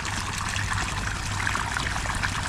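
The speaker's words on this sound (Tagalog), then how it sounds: "malaki yung hose natin. Malakas yung tubig." Water runs and splashes steadily at close range from a large garden hose with strong pressure, a continuous rushing flow without pauses.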